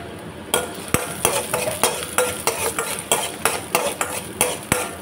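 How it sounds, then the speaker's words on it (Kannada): Half an onion and four or five garlic cloves frying in a pan, heard as a soft sizzle under a steady rhythm of about a dozen spatula scrapes and knocks against the pan, close and clear. "ಈಗ ಇದಕ್ಕೆ ಒಂದು ಅರ್ಧ ನೀರುಳ್ಳಿ, ಒಂದು 4-5 ಬೆಳ್ಳುಳ್ಳಿಯನ್ನು ಚೆನ್ನಾಗಿ ಫ್ರೈ ಮಾಡ್ಕೊಳ್ತೇನೆ."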